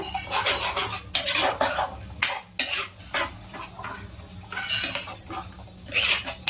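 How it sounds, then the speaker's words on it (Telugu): Curd is stirred smooth in a bowl with a spoon for curd bajji batter, giving close, rhythmic bursts of wet scraping and light clinks against the bowl. "మంచిగా కలుపుకోవాలి ఇది ఉండలు ఉండలు లేకుండా పెరుగు"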